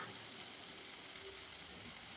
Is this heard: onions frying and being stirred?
yes